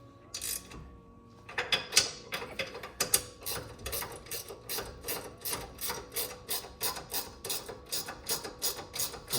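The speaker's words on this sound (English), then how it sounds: "you either need a box wrench or a ratcheting box wrench" A ratcheting box wrench clicks steadily as it turns a bolt on a truck bumper step, a close, regular run of rapid ratchet ticks following a few irregular metallic scrapes and clanks at the start.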